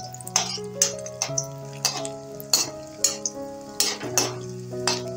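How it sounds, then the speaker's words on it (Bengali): Raisins lightly frying in hot oil in a pan, a soft sizzle under a run of regular clinking stirs, roughly one metallic scrape or tap every half second, close and clear with no talk. "কিশমিশটাও হালকা ভেজে নিয়ে তুলে দেব।"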